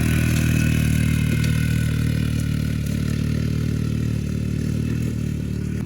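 A UTV side-by-side engine runs steadily while pulling a Groundhog Max disc harrow over acreage in Illinois, a constant mid-pitched drone with faint clatter, close and loud throughout, no talking.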